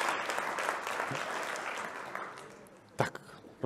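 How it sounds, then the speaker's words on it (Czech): An audience at a Czech panel discussion on landscape features and biodiversity claps in a dense, fairly loud round of applause that thins out, ending with a few scattered handling knocks. "prosím potlesk."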